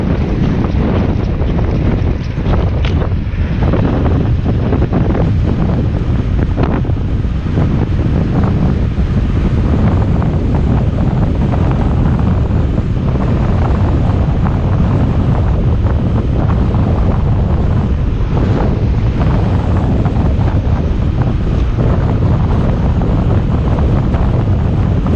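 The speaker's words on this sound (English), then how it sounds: "It's gonna get a bit windy." Heavy wind buffets the microphone while cycling down a short hill, a constant loud roaring rush that persists throughout with no speech.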